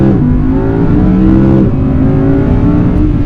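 A 2019 Audi R8's non-turbo V10 engine revs loud and close, a sustained rising howl that dips briefly mid-rev before climbing again, with no voices.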